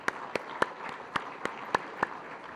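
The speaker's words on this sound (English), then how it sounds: "Let's give these Platinum members a round of applause." Sparse, scattered claps ring out at an installation banquet for Platinum members, about eight separate hand claps spaced apart over a quiet room murmur.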